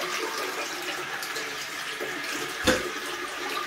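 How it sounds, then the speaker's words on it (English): A TOTO washlet toilet fitted on an American TOTO bowl auto flushes, a soft, close rush of running water with a brief gurgling surge near the end. "Auto flush."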